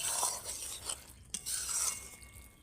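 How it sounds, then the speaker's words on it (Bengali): Okra curry is stirred in a pan, giving soft scraping and shuffling strokes with a light sizzle underneath, faint and close, with no voices. "আমি নেড়ে দিচ্ছি দেখুন"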